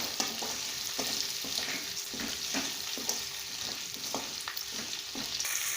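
Dried fish (karuvadu) frying in oil in a pan for kolli karuvadu kulambu, a steady close sizzle with regular scraping stirs of a spoon throughout.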